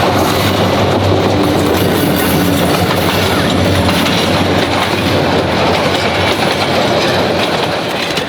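A train rolls close by along a track running through a crowded street market, a loud continuous rumble with rhythmic clickety-clack of wheels over the rails and faint wheel squeal.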